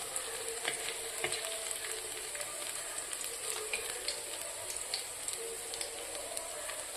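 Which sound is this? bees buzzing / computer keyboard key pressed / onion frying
onion frying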